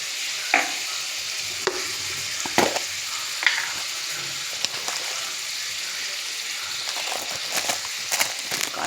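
Vegetables for a curry sizzle and fry in a pan, with a steady crackling hiss and occasional sharper stirring clicks and knocks, and no talking.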